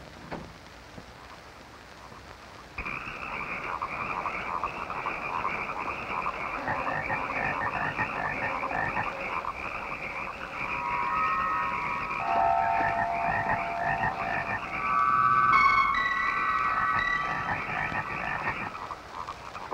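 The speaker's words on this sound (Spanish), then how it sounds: "Ranas atacando ventanas" Many frogs croak in a dense, continuous chorus from a 1972 horror film about frogs, rising steadily in loudness with layered overlapping calls and a faint patter like rain beneath.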